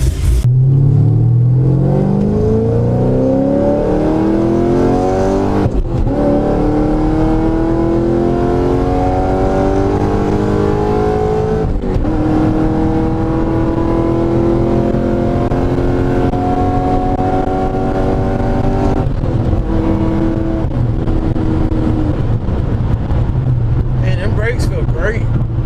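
A 2010 Chevrolet Camaro SS pulls away and accelerates through the gears, engine note repeatedly climbing then dropping at each shift, a steady close in-cabin roar with someone speaking now and then.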